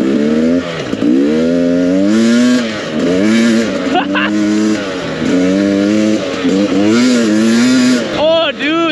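A Kawasaki KLX dirt bike ridden hard, its engine revving loud and close in repeated rising and falling sweeps as the rider shifts, while he exclaims excitedly over it.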